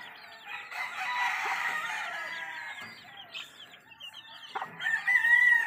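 Chickens cluck busily while a rooster crows, a lively barnyard chorus of several birds close by with no talking.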